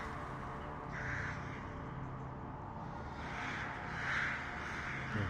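A raven in Assassin's Creed Valhalla caws in two or three harsh, rasping calls over a steady ambient game background.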